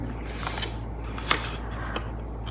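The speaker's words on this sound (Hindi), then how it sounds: "हम 2 कार्ड और पुल करेंगे यहाँ से" Tarot cards slid and pulled from a deck in a quiet room, a few soft papery swishes and one sharper snap near the middle, with a faint low hum underneath.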